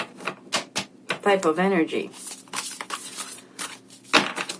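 A deck of tarot cards is shuffled in quick, uneven bursts of crisp flicking clicks, close to the mic, heard under a woman's ongoing speech.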